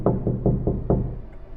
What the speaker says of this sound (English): Another knock, this time louder.